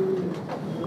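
A pair of fancy pigeons at a Bangladeshi farm gives a short, close, resonant coo that lasts under a second.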